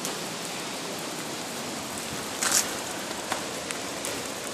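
Steady rain-like patter of hail pellets falling outdoors, a dense continuous hiss with a few sharper hits, fairly close.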